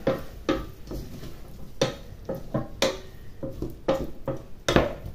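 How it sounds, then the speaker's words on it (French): A spoon scrapes and clinks against a saucepan in irregular strokes as rougail with sausages is stirred, with soft sizzling underneath. "Alors ensuite, après, je remue"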